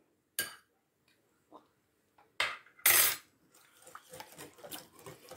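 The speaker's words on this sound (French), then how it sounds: "je vais prendre une cuillère pour goûter s'il faut que je rajoute" A spoon clinks against a salad bowl while tasting: a few sharp, isolated metallic taps spaced apart, a louder scraping clatter near the middle, then softer scattered clicks, close by and without talk.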